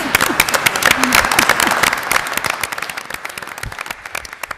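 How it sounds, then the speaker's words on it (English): Audience applause for a flight academy presentation at a town meeting, a loud, dense burst of many hands clapping that gradually thins into scattered individual claps. "I think he deserves one more round of applause"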